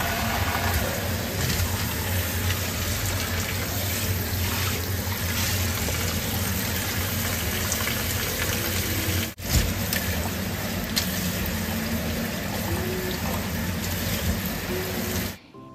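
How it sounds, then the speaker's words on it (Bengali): Water from boiled chow mein noodles pours out steadily as they are drained, a continuous close rushing splash that runs unbroken for about fifteen seconds with one brief dip partway through. "এবার জলটা ঝরিয়ে নেব।"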